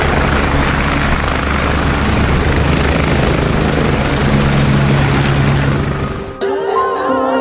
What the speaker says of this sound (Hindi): जंगी हेलीकॉप्टर्स।